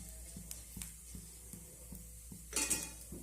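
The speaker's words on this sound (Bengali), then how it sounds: "জিরাটাকে হালকা করে ভেজে নেব।" Whole cumin seeds fry in mustard oil in a pan while a utensil taps and clinks against the metal in a regular rhythm, followed by a brief burst of brighter sizzling near the end.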